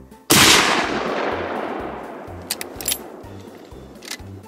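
A single loud, close gunshot from a hunting firearm cracks sharply and rolls away in a long echoing decay, followed by faint clicks and rustles.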